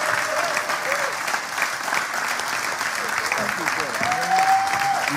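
An audience applauds steadily to welcome a speaker onto the stage at a talk, with dense, even clapping throughout and a faint voice and brief tone near the end.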